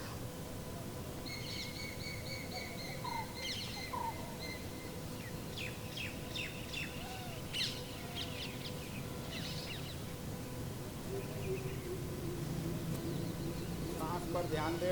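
Birds chirp and call faintly outdoors during a yoga workshop relaxation session, scattered tweets over a soft steady background hiss.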